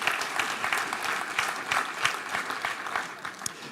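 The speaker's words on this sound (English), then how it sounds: "Could we have a round of applause for our first panelist?" Steady round of applause from a conference audience welcoming a panelist at a circular economy forum, dense clapping throughout at moderate distance.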